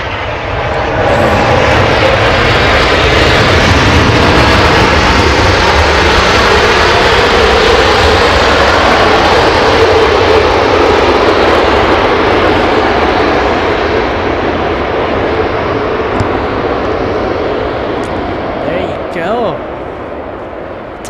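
Jet engines of an Airbus A380 roar at Los Angeles International Airport, a loud, continuous broadband rumble that swells and slowly fades as the aircraft passes, with voices talking underneath.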